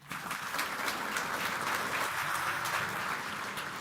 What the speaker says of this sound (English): Of course they deserve that applause.